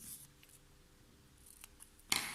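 Scissors snipping through paper during a preschool craft lesson, a few faint, soft cuts followed by one sharp, close snip near the end, with no talking.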